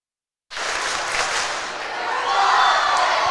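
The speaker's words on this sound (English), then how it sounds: "The fans are having cheering contests." Basketball fans cheer and applaud in a high school gym during a tight game, a loud sustained crowd roar with clapping that starts abruptly and swells slightly toward the end.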